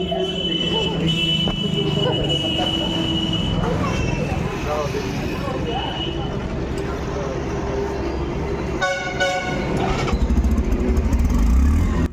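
A motorcycle at home is checked over, its engine rumbling steadily and revving louder toward the end, with people talking around it.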